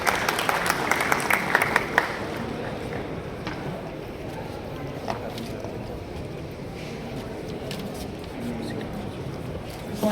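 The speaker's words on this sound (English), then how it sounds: "Let's give her a huge round of applause." Audience at a jewellery show inauguration claps in a steady, moderately loud round of applause. It is strongest at the start and continues with background murmur.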